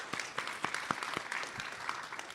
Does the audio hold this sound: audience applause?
yes